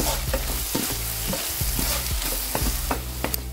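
Chilli powder and salt are stirred into a sweet potato curry in a hot pan, with loud, close scraping strokes repeating over a continuous sizzle.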